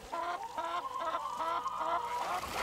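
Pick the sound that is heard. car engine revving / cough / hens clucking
hens clucking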